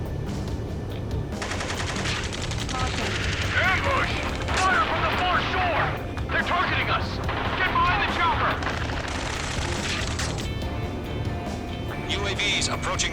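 Heavy battlefield fire in the Ace Combat 7 combat flight game, with rapid machine-gun bursts and booming artillery from the foreshore rolling continuously and loudly, broken by faint shouts and radio voices.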